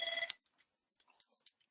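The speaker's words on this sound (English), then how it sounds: "my phone just went off" A mobile phone ringtone sounds close by in a short, clear electronic burst, then cuts off, followed by a few faint clicks and soft noises.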